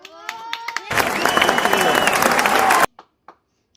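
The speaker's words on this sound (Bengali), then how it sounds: "আবার হাততালি দাও" Talk gives way to a dense burst of many hands clapping together for about two seconds, loud and close, then stops abruptly with a few stray claps.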